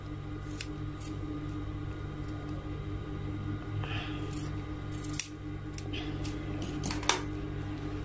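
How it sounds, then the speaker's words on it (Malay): Scissors snip through fabric being trimmed while sewing an A-line robe, a few crisp, irregular cuts close by over a steady low hum, with no talking. "mana bahagian yang besar ni kita boleh potong sikit"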